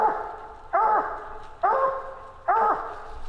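Coon hounds bark at a tree during a night coon hunt tournament, giving three loud, close, baying barks at a steady interval with fainter barking between them.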